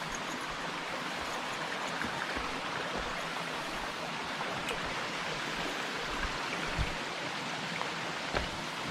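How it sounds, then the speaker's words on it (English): Small creek crossing on the Bartram Trail with water flowing steadily over rocks, a continuous broadband rushing wash close by, alone without voices. "Bunch of these little creek crossings."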